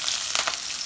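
Sliced onions and curry leaves fry in hot oil with tempered fenugreek and cumin for a Coimbatore-style puli kulambu, a steady close crackling sizzle with brief louder pops.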